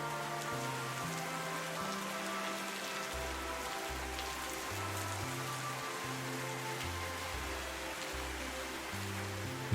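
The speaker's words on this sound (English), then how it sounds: "But here comes the rain. And the rain feels cool and refreshing." Rain falls steadily as an even, soft hiss with no breaks, under a low melodic music bed, with no voices.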